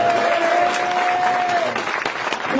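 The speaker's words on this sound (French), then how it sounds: "Déjà, ils vont t'applaudir." Audience applause at a live stand-up comedy show, a steady dense clapping from the crowd that runs loud and continuous throughout, with a sustained musical tone sounding over it for the first part.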